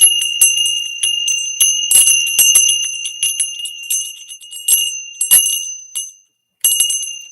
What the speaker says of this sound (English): They're two brass bells, and they walk around.